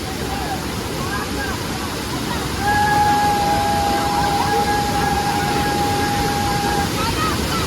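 The AnandWadi waterfall near Mumbai rushes in a constant broad wash of falling water, and a thin steady whine rises over it midway for a few seconds before fading.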